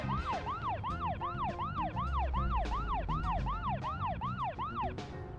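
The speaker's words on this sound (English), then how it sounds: "Does the siren use more gas?" A vehicle siren wails in the video game Deadly Premonition, rising and falling in a fast, steady cycle that repeats about a dozen times. It is loud and continuous, with a low engine rumble underneath.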